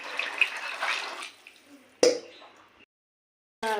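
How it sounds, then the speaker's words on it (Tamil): Water splashes into a pan of chickpea kurma in a close rush that tapers off, followed by a sharper splash and, after a brief silence, another short burst. "தண்ணி சேர்த்துக்கலாம்."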